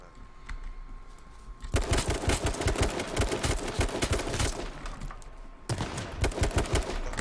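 Bursts of rapid gunfire from the survival shooter H1Z1, loud and dense crackling volleys that start abruptly, pause briefly and resume, heard alone without talk.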